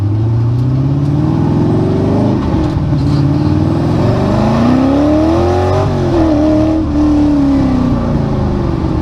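An off-road car engine runs steadily at close range, idle turned down, its pitch rising and falling smoothly with small revs before settling back.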